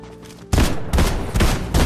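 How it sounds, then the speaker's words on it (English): Automatic gunfire in Fortnite, loud close bursts of rapid shots in several quick volleys, with no talk. "Bro, my controller's auto firing."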